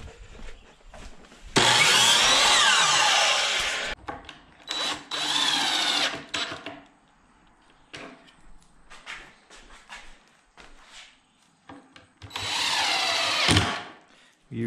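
A power drill bores pocket holes through an inch-thick board held in a pocket hole jig, with several loud whining bursts separated by quieter pauses and handling noise.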